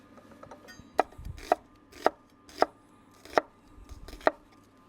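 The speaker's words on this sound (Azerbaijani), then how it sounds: "Bu arada soğanı doğrayaq." An onion is chopped with a knife on a board in six evenly spaced, crisp thuds about half a second apart, close and clear, with no talking.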